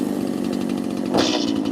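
A chainsaw runs loud and close while carving a bear from wood, a steady droning roar that rises in pitch briefly near the end.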